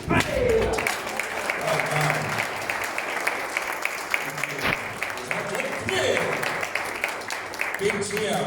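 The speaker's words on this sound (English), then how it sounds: "Big cheer, well done." Steady audience applause and cheering fill a hall after a taekwondo jump spinning hook kick demonstration at a belt presentation ceremony, with voices of the crowd mixed through the clapping.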